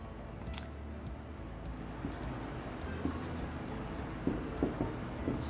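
A pen or marker writes a grammar rule in a quiet room, making soft close scratching strokes with a few louder taps, and a voice murmurs faintly in the background.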